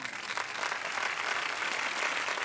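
A studio audience at a Vietnamese couples game show claps in a steady, dense wash of applause that holds evenly throughout.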